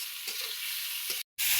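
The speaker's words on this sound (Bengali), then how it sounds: "চিংড়ি মাছগুলো আমি কড়াইতে দিয়ে দিলাম আলু ভাজা তেলের মাঝে" River shrimp frying in leftover potato-frying oil in a wok, a steady broadband sizzle with faint stirring scrapes, cutting out briefly near the end before returning louder.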